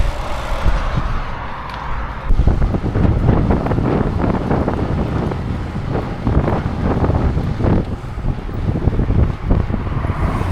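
Headwind buffeting the microphone on a gravel bike ride, a loud rumbling roar with gusty swells that rises sharply after a quieter start and keeps pounding steadily throughout.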